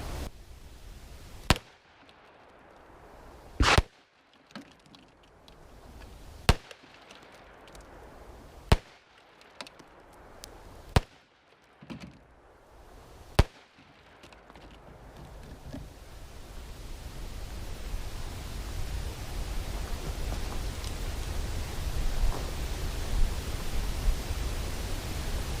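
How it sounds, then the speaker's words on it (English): Six sharp, loud revolver shots, .357 Magnum 158-grain and .44 240-grain rounds fired at targets, each blast ringing briefly at irregular intervals before a steady rising wind-like hiss takes over. "this time I'll shoot the target on your left with the 357 158 grain and the target on your right with the 44"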